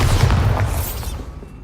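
A Bombarda spell blast in Hogwarts Legacy: a loud, dense explosive boom with crackling debris that decays over under two seconds, heard alone.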